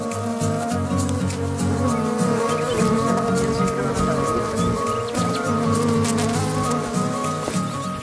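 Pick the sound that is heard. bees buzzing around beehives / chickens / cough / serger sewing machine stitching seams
bees buzzing around beehives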